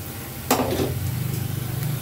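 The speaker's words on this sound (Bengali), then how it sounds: "মরিচটা আগেই ভেজে নিচ্ছি, এই যে একদম সুন্দর করে।" Green chilies hit hot oil in a pan with a sudden sharp sizzle, then settle into a steady crackling fry that continues close up.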